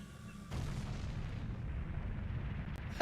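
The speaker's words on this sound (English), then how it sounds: "That explosion was louder than my pants!" An explosion in the game Ship of Harkinian, a sudden heavy boom that breaks in abruptly and trails off into a long, low rumbling roar.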